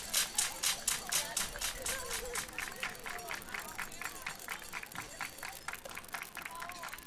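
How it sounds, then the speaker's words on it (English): At a high school baseball game between the Rouse Raiders and Cedar Creek Eagles, a crowd claps in a steady, rhythmic beat of about three claps per second. The clapping is moderately distant and runs under murmuring voices. "Everybody clap your hands"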